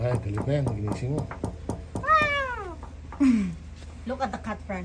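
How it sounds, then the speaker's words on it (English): A cat meows several times at close range, with drawn-out rising and falling cries at an adventure park, mixed with people talking nearby. "Look at the cat, friend."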